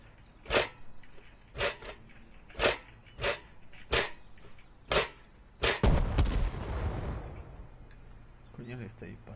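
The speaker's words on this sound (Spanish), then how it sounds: "Coño, que está disparando, tío." Repeated gunshots in the survival video game Rust: a series of sharp single cracks at irregular intervals, with a heavier blast that rumbles and decays near the end.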